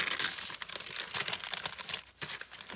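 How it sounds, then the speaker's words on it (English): A paper bag tearing along its seam, close-up crinkly rips and crumpling in short irregular bursts. "Well, it is ripping a tiny bit,"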